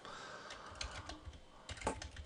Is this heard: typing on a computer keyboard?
yes